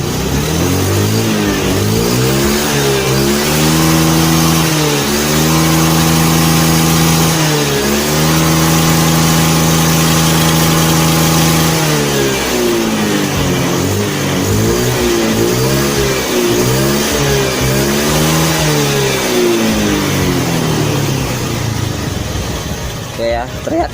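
A Honda Beat scooter's carbureted engine revs hard and holds high, dropping and climbing again in repeated throttle blips, loud and close with a steady mechanical drone throughout.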